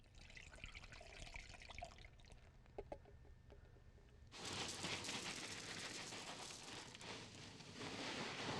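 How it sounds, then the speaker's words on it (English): Bleach poured into an air conditioner condensation drain line: faint trickling and dribbling at first, then a steady, louder rush of liquid pouring continuously to the end. "take a cup of bleach and pour into the line at least twice a year"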